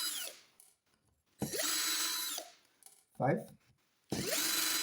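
A powered screwdriver whirs in three loud, close bursts while removing screws from a Lambretta scooter clutch, with a short spoken word between the bursts.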